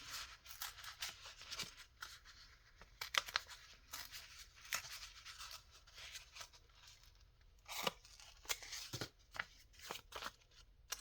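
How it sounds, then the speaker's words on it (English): Paper torn by hand for ephemera crafting, a series of close, quiet, irregular ripping and rustling bursts with scraping texture and brief pauses between tears. "So I'm just going to rip this."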